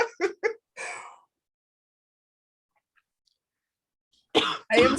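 A short burst of dry coughs, three or four quick hacks followed by a breathy one, then a long silence and another pair of harsh coughs close to the microphone.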